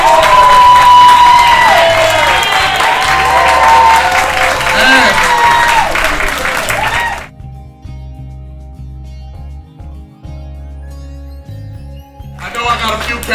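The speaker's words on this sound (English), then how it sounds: "Give yourself a round of applause." Audience at a community police event applauds and cheers loudly, a dense wash of clapping and shouts that suddenly drops away midway, leaving low hum and quiet before the crowd noise swells again at the end.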